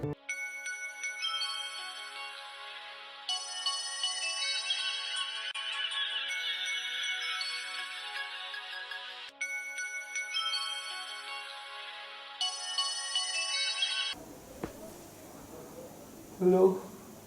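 A phone ringtone for an incoming late-night call plays as a bright, repeating electronic melody for about fourteen seconds, then cuts off to quieter room sound with a short knock near the end.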